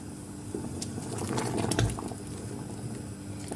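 A pot of lentil soup bubbles and burbles at a gentle simmer, with soft pops and wet blips rising briefly, then settling back to a low boil.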